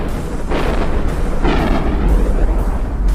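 Smart bombs detonate against battleships in EVE Online, a dense, loud rumbling barrage of overlapping booms and crackling bursts that keeps going without letup and has no speech over it.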